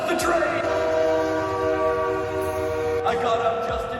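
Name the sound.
train approaching with horn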